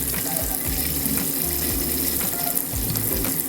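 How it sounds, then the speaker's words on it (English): Hot water runs steadily from a faucet in a Forest River Flagstaff A-Frame camper during winterizing, a constant close splashing gush with no talk over it. "I'm doing the hot water now."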